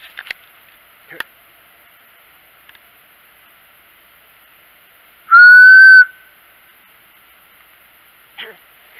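A single person's whistle carries from up a hill in a Pennsylvania woodland, one sustained rising-then-steady tone about a second long, fairly distant and clear, with faint hushed whispering and small rustles before and after.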